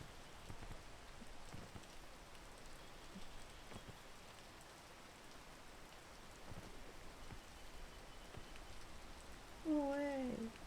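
Steady rain falls in the climbing video game PEAK, a dense, even hiss of drops on surfaces that runs throughout, with a brief wavering tonal whine rising near the end.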